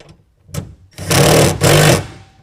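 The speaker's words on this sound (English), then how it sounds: "tighten that down using a 1/2 inch ratchet or socket" A 1/2 inch ratchet drives a socket to snug down a bed-rail clamp for a BAK Revolver X4s tonneau cover on a 2022 Toyota Tundra, giving a brief click, then two loud sustained bursts of rapid ratcheting close up.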